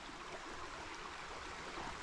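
Running water of a stream beside the Sougahoagdee Falls Trail in Alabama, a soft, continuous rushing murmur heard alone and fairly faint.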